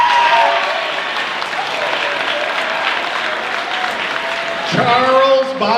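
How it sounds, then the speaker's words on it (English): A school assembly audience claps steadily for students in a gymnasium-like space, with the applause fading as a speaker starts talking near the end. "then we'll clap for all of them."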